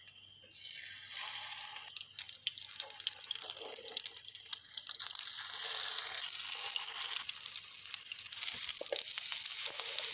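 Chicken vegetable kebabs dipped in egg frying in a pan, a steady hiss and crackle of hot oil that swells louder and denser as more pieces go in, with no talking.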